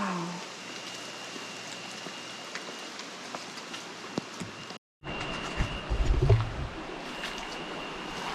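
Water runs through ancient canals beside old ruins, a steady soft rushing hiss that cuts out briefly, then returns with closer gurgling splashes and low rumbles before settling into a gentle flow.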